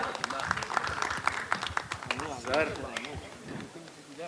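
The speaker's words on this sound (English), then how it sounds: "a big round of applause for the man behind the video also, Mr. Ahmad Khan." Audience applause at an event, dense rapid clapping throughout, moderately close, with a voice talking over it.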